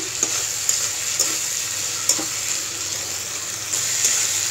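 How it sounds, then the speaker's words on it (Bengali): Small dried fish frying in oil with garlic, an even hiss of sizzling oil close to the pan with occasional sharp taps and stirring scrapes, no talking. "আমি এটা একটু ভেজে নিচ্ছি রসুন আর তেলের সাথে"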